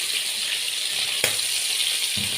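Garlic cloves frying in a pan while chicken liver and gizzards cook, producing a steady soft sizzle with a couple of brief clinks, heard alone without speech.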